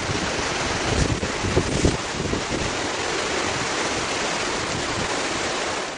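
Ocean waves break on a beach in a steady, continuous wash of surf, with a couple of slightly louder surges early on and wind rushing across the microphone.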